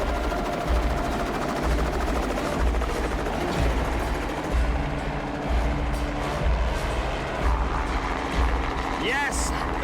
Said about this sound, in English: Now, the helicopter needs to come back for the co-pilot.